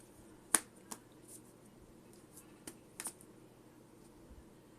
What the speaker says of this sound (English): Shuffle it.